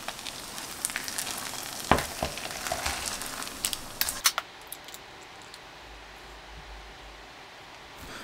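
Frozen-dumpling okonomiyaki frying in oil in a pan over low heat, a close crackling sizzle with scattered pops and utensil taps that settles into a quieter, fainter hiss.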